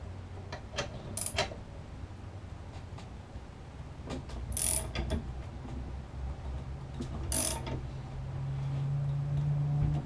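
A ratchet wrench with a socket tightens a bolt on a 1972 Oldsmobile Cutlass A-arm, giving light repeated clicks and a few sharper metallic ticks over a steady low background hum, no talking.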